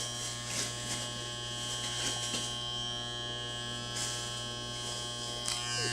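Conair electric hair clipper from a home cutting kit trimming a person's hair, a steady low buzzing drone with faint intermittent snipping rustles, close and fairly quiet, with no talking.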